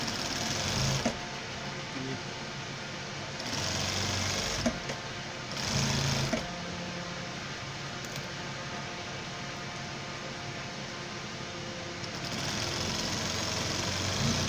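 Sewing machine stitching a formal pant leg, running in steady bursts with short pauses between seams, close and continuous at moderate loudness with no talk.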